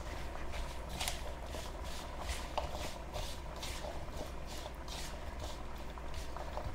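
Boiled potato filling for pani puri being mixed by hand in a bowl, soft wet squelching and rhythmic stirring strokes repeating steadily, close and fairly quiet with no talk.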